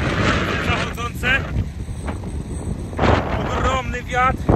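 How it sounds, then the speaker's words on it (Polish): Strong wind roars and buffets the microphone throughout at Prasonisi on Rhodes, by a churning sea, with brief bursts of speech cutting in and out over the gusts. "Ogromny wiatr, który masakrę robi z morza."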